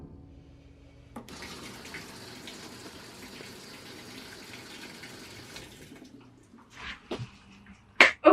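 A washing machine fills with water for a wash, a steady soft gushing stream running for several seconds before stopping, followed by a few faint clunks and knocks.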